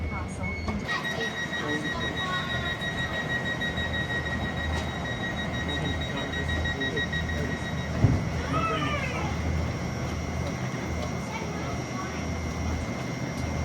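A train stands at Broadmeadow station in Newcastle with a steady low idling rumble, tonal station beeps early on and people talking over it.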